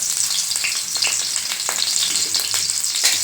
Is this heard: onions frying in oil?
yes